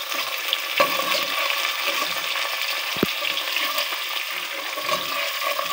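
Onions browning in hot oil in a home kitchen with two bay leaves dropped in, a steady broadband sizzle with a few stirring clinks and knocks, close and continuous with no talking.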